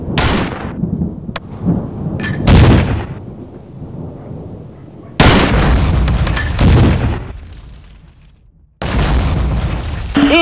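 Heavy booms of artillery and gunfire in the Close Combat wargame, set on D-Day + 4 with the British 3rd Infantry Division, hit loud and close in several separate blasts, each trailing into a rumbling decay.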